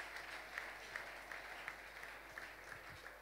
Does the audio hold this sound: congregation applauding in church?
yes